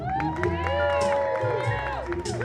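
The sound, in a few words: audience applauding and cheering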